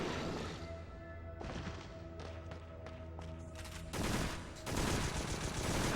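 Enemy soldier firing a gun in the PS2 game Extermination, a loud burst of rapid gunfire with heavy thuds, intensifying into dense fusillade toward the end.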